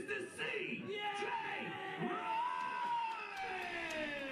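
A wrestling crowd at an indoor FCW event cheers and yells as a wrestler is introduced, a dense swell of whoops and shouting voices that stays loud and sustained throughout, with individual calls rising above the roar.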